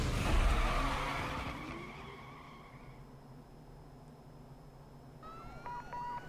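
Police chase in the racing game Need for Speed Most Wanted, with a car roaring loudly and then fading, tires skidding, and a police siren wailing in at the end.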